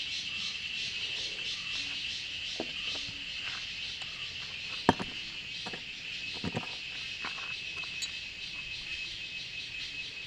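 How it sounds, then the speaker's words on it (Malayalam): A water-filled bird whistle toy gives a steady high warbling chirp throughout, with a few faint clicks and knocks nearby. "ഇത് വെള്ളം ഒഴിച്ചിട്ട് ഓടുമ്പോൾ ഈ കിളിയുടെ ശബ്ദം വരും."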